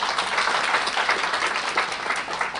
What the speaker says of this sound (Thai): ปรบมือให้หน่อยสิครับ